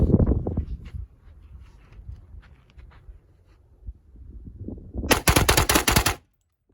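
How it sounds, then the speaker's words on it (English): A 300 Blackout rifle fitted with a competition upper and Pioneer trigger fires a rapid mag dump, a loud, dense burst of shots lasting about a second near the end, after quieter movement and handling noise. "That's the 300 Blackout. It goes fast."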